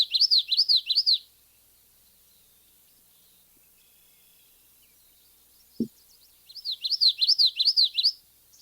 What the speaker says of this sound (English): I filter out the common yellowthroat. So here it is.